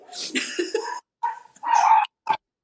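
Huskies barking indoors, several close, sharp bursts separated by short silent gaps.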